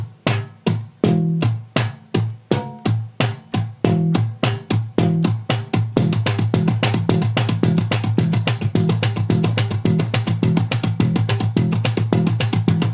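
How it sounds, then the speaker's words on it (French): Bass guitar played with slap technique, thumb strikes on the low string alternating with percussive taps on muted strings, a steady rhythmic pattern that turns denser and continuous halfway through, close and loud with no talking. "il tape sur la grosse corde en ayant bloqué les cordes"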